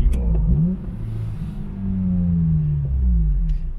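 A Honda VTEC car engine revs up and down a few times nearby, a low rumbling surge that rises and falls.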